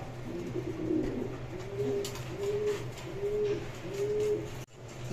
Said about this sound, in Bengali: ভিউয়ার্স আপনারা এখন দেখতে পাচ্ছেন এখানে একজন শার্টিং কবুতর